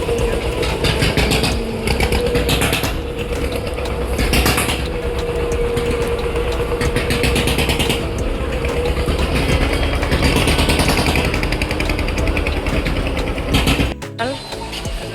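The engine of a river launch boat drones loud and steady at close range, throbbing evenly for the whole stretch. Voices are heard under the engine noise, and a short clunk comes near the end.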